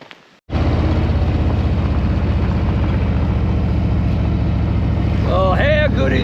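Harley-Davidson motorcycle ridden on the road, its engine holding a loud, steady low rumble from start to finish after a short quiet opening, with a faint voice near the end.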